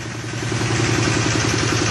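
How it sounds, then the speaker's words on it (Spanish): A tractor engine runs steadily, powering a wood chipper for pellet production, with a close, loud, rhythmic low chugging and clatter that barely changes. "ya hemos puesto en marcha el tractor con las medidas de seguridad pertinentes"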